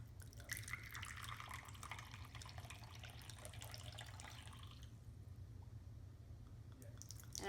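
Traditional Eritrean coffee poured through a filter into a finjal, a steady liquid trickle and splash lasting several seconds before tapering off, close and moderately quiet.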